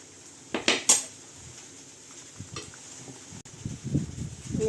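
A metal pot of masoor dal is lifted off the stove with a few sharp clanks and clatters of cookware, followed by softer scrapes and knocks, close and fairly quiet.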